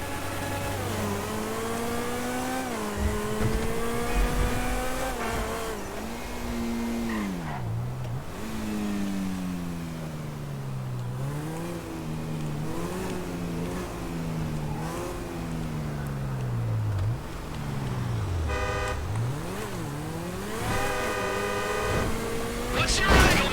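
Video-game car racing through Los Santos: a mid-pitched engine revs and whines continuously, rising and falling with gear changes and acceleration, with occasional tire squeal and a brief harsh horn-like burst near the end; no talk over it.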